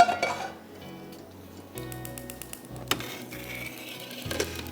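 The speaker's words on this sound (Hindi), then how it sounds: "मैं ब्रेक में एक काम ये करूँगी कि मैं कढ़ाई ले रही हूँ" Metal clinks and clatters as a kadai is picked up and set down, a few sharp knocks and scraping rattles close by, with quiet gaps between them and no talking.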